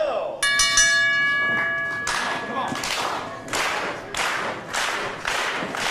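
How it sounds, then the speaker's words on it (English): Wrestling ring bell at the start of a tag team match, a bright ringing tone struck several times in a row, followed by sharp thuds and slaps with a voice talking over them. "Let's ring the bell."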